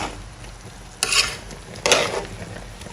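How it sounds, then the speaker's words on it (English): Meat for ogbono soup cooks in a hot pot with a constant low sizzle, while two louder bursts of stirring and scraping come through close by. "So I'm cooking the meat I'm going to use for the soup"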